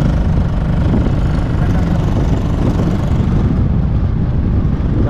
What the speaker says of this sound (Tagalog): agresibo pa yung makina niya